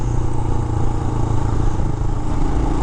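A 2023 Royal Enfield Himalayan motorcycle engine held at full throttle, a loud, steady close-up drone with a dense pulsing rumble and no pauses.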